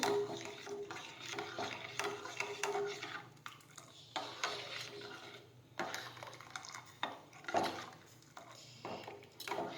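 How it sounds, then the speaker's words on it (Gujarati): A spoon stirs Kashmiri chutney in a cooking pan, giving a run of soft scraping and clinking strokes in an irregular rhythm, close and moderately quiet, with no talk. "હવે આ રીતે ફેરવવાનું રહેવાનું છે."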